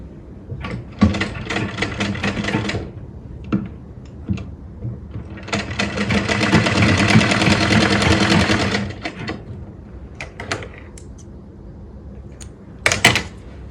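Sewing machine stitching straight seams on a belted salwar, close and steady, running in several bursts with a long continuous stretch in the middle and short pauses between.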